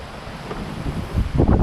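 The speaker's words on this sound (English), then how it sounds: "It's so windy." Strong storm wind roaring and buffeting at a campsite, steady rumble swelling in loud gusts toward the end, no talk.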